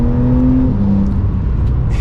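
A Porsche 992 911 Carrera engine pulls hard while driving, a loud, close, continuous drone whose pitch rises then drops slightly as it shifts, with no voices over it.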